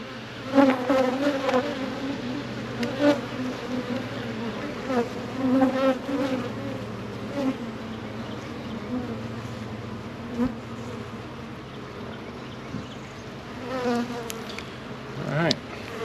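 Honeybees buzz steadily throughout an open-hive check, a dense continuous hum with individual bees droning louder as they pass close, plus occasional soft handling noises and no talk.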